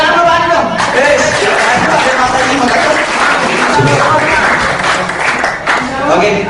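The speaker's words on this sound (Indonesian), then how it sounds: "Tepuk tangan dulu Pak dong." An audience at a school class reunion claps to welcome a sports teacher as he walks in, a loud, dense, steady round of applause filling the whole stretch, with voices talking and calling out through it.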